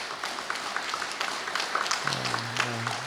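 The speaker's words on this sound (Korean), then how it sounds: "박수로 환영하도록 하겠습니다." A church congregation claps in welcome for a visiting pastor, a moderate scattered applause, with a low sustained tone joining in the last second.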